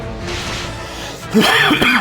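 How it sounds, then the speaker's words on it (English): A single harsh cough bursts out close to the microphone, followed by a short throaty voiced sound. "That cough came out before I could stop myself."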